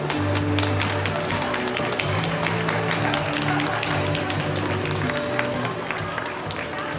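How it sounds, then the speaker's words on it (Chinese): An audience at a Hong Kong annual awards ceremony applauds with a dense, continuous patter of claps over steady background music, sustained and fairly loud across the whole stretch. "掌声不断"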